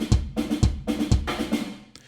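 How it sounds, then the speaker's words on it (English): Unprocessed Gypsy percussion sample from the EastWest Gypsy library: a rhythmic loop of deep drum thumps and brighter hand hits repeating in a steady groove, close and full, with no voices. "So your innocent Gypsy percussion, which used to sound something like this"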